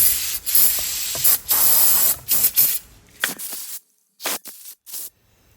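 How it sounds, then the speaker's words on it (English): Repeated bursts of pressurized spray hissing loudly up close, short blasts separated by brief pauses, with faint clinking in between. "let's spray that with cleaner"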